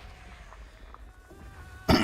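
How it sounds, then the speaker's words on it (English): A single short, sharp cough from a streamer with chronic bronchitis, close and abrupt at the very end after a quiet stretch of faint room noise. "either my nose will start running or I will start coughing"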